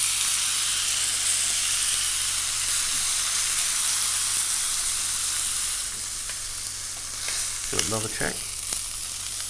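Steak searing on its skin and fatty edge in a hot pan, a loud, steady hissing sizzle that runs throughout, with a short spoken phrase near the end.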